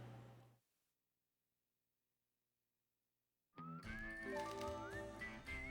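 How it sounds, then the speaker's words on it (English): A call whistle is blown in the PS2 video game Wild Arms 5. After a short stretch of near silence, a bright whistled tone glides upward over a full musical backing. "So now we get to blow the call whistle and ride the monot wheel for once."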